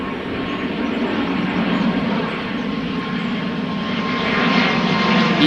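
An Embraer 195 E2 airliner at Amsterdam Schiphol Airport produces a steady, broad engine roar that holds close and loud throughout, swelling slightly toward the end.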